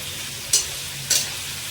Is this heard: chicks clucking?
no